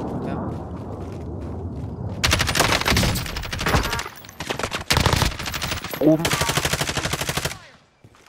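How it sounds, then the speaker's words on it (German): Loud bursts of automatic gunfire in a video game at night, coming from above, in several long rattling volleys separated by short gaps, with a voice briefly speaking. "Ich hab von oben Schüsse gekriegt."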